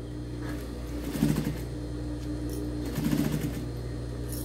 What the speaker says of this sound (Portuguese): agora a gente vai passar uma costurinha de segurança tudo aqui para segurar a